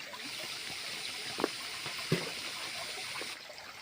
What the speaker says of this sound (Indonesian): Sekarang tinggal kita cuci di air sungai yang jernih ini sobat.